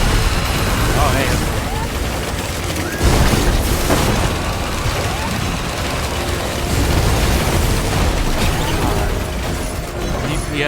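Rocket explosions in the video game Risk of Rain 2, a dense barrage of booms and mechanical clatter layered with busy game effects and music, with repeated bursts throughout at a fairly loud, constant level.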